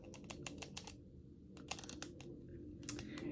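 The aperture ring of a Komura Komuranon 35mm f/2.5 lens being turned, giving quiet bursts of quick, crisp detent clicks in two short runs with a pause between them.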